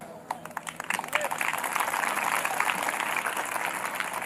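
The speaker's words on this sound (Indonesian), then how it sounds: "Kenapa kamu tepuk tangan?" A church audience claps during a sermon, starting with a few scattered claps and swelling into steady applause that fills the rest of the clip.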